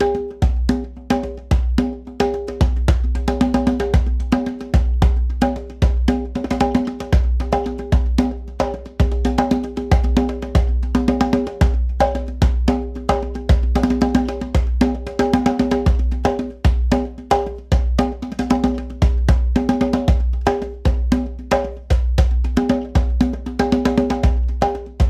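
Mambo groove built on a 3-3-2 pattern, played on drums with a cowbell-like accent, steady and driving throughout with dense repeated hits and no talking.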